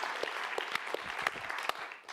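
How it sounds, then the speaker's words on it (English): Audience members at a library event clap for the organisers, a moderate round of applause with distinct individual claps standing out close by over the scattered patter. "I think we all should give a round of applause to Louise and the Library Foundation for bringing this thing together."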